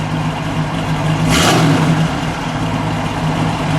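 1973 Pontiac Trans Am Super Duty SD 455 V8 idles with a deep rumble, then gives a single sharp rev that swells and settles back to idle, close and loud.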